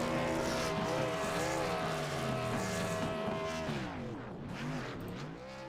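Race cars in the iRacing simulator do burnouts, with loud, continuous revving engines whose pitch wavers and sweeps, mixed with tire squeal.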